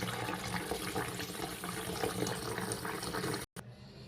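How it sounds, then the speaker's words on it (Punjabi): Tap water runs steadily over homemade paneer held in a cloth, a continuous close rushing splash with a brief break near the end and no talk. "ਆਪਾਂ ਇਹਦੇ ਵਿੱਚ ਟੂਟੀ ਚਲਾ ਦਾਂਗੇ ਇਹਨੂੰ ਚੰਗੀ ਤਰ੍ਹਾਂ ਤਿੰਨ ਚਾਰ ਵਾਰੀ ਧੋ ਕੇ"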